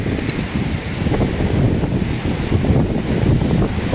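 Sea waves surge and wash near the Bankot–Velas coastal road, a steady loud roar of surf mixed with buffeting wind noise on the microphone, continuous throughout without a break.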